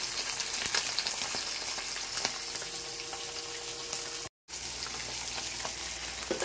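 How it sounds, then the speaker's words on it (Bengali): Marinated bata fish fry in hot oil in a kadai, giving a constant close, crackling sizzle with faint scattered pops, broken once by a brief silent gap before the frying noise resumes. No one speaks. "তো মাছগুলোকে ভাজতে দিয়ে দিলাম"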